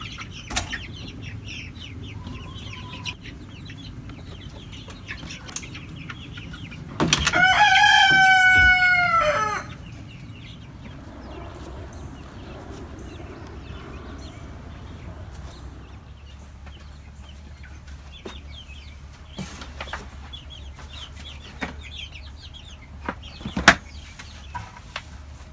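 Chicks in a brooder being rounded up: scattered soft cheeps and rustling, broken by a loud burst of wing flapping and a sustained squawking call from a bird, then more intermittent peeps and thumps.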